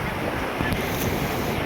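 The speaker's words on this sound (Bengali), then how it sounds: "দেখুন আরেকটা ঢেউ আসছে, পরপর ঢেউ।" Sea waves roll in and break at Digha beach, a steady broadband surf roar with wind buffeting the microphone throughout, loud and continuous with no clear pauses.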